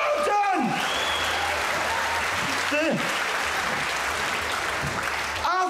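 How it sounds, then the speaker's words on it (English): Steady audience applause at a comedy show at the Hay Festival, a dense, even roar of clapping that holds for several seconds while a voice talks over it at times. "I'll take that as a round of applause"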